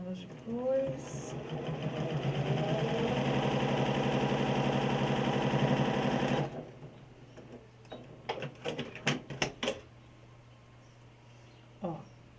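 Sewing machine running continuously for about six seconds while stitching a slanted fabric piece, a steady fast mechanical whir, then stopping, followed by a few sharp clicks and handling sounds.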